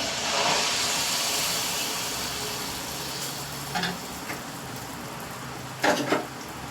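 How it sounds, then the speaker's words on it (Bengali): Mango malpua batter drops into hot oil and fries with a steady low sizzle and hiss, broken by a few brief clinks and knocks of a utensil near the end, with no voices. "তেলটা এসে গেছে ভালো করে গরম হতে হবে এবার আমি মালপোয়াটাকে ছেড়ে দিচ্ছি"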